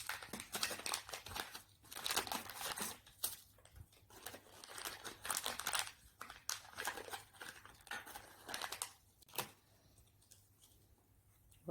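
A cardboard box holding an HIV self-test kit is torn open, with close, crinkling rips and crumpling bursts that come in irregular spurts and then taper into quieter handling.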